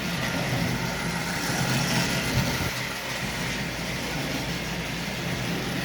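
A 105-year-old Lionel 33 model train fitted with a Marx replacement motor runs steadily around its track, giving a continuous close whirring rumble at an even level with no pauses.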